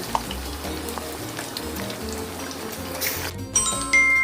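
Pork belly frying in hot oil for a Thai red-curry-paste crispy pork dish, a steady dense sizzle and crackle throughout, with a sharper clatter near the end as the pieces are lifted from the oil.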